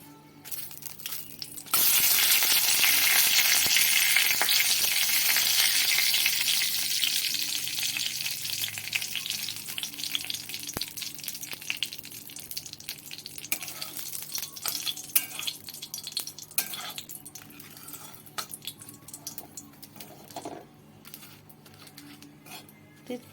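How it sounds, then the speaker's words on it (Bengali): A bay leaf drops into a small amount of hot oil in a home kitchen pan, setting off a loud, bright sizzle that holds for several seconds, then gradually settles into a softer crackle with faint clinks. "এবারে দিয়ে দেব একটা তেজপাতা"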